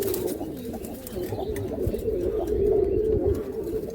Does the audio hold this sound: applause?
no